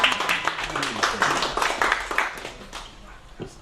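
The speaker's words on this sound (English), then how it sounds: "Round of applause, let's go." Crowd clapping and cheering at a CalExit independence movement event as its founders are introduced: loud clapping that tapers off over a few seconds, with voices mixed in.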